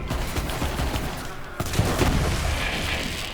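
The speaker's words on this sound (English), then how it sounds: "It looked like I was shooting two things at once." Rapid bursts of gunfire from the Two-Fang gun in Borderlands 3 crackle in a dense, continuous volley, loud and close with no talk over it.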